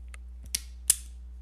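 Toothed slide of a Carson Digi Scope phone holder giving a few sharp plastic clicks, two louder snaps about a third of a second apart over faint hum, close and quiet.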